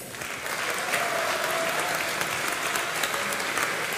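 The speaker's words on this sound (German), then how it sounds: "einen großen Applaus für die Elisabeth" Loud audience applause at a folk music broadcast in Lower Austria, a full crowd clapping in a thick continuous roar that swells after the first half second and holds steady.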